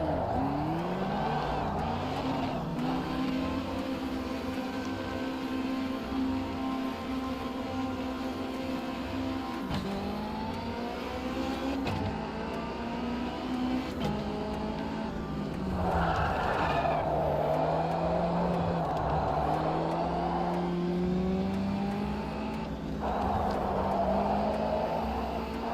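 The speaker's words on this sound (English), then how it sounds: "let's get this little car revving" A car engine in a racing video game revs up and down through its range, a continuous whining roar with rising and falling pitch sweeps, loud and sustained throughout with occasional tyre squeal.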